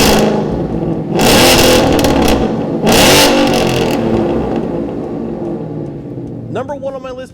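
Exhaust of a supercharged 2015 Ford Mustang GT with quad-tip exhaust, two loud revving bursts that rise and fall, followed by a lingering idle rumble, close to the tailpipes.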